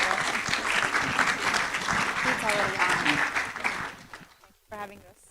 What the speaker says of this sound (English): let's give John, Mondonna, and Jason a big round of applause